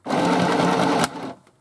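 A sewing machine stitching a mini sewing machine bag, easing fabric around a corner: one loud, steady mechanical whir lasting about a second, then slowing and stopping, heard close and alone.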